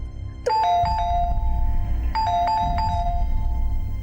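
A doorbell rings twice in a home, each a clear two-tone chime pattern standing out over a low background rumble.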